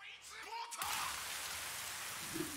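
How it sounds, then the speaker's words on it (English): Rain in the anime JoJo's Bizarre Adventure: Stone Ocean, a sudden wash of steady hissing downpour that rises after a short tonal sound effect and continues evenly, at low level. "Rain!"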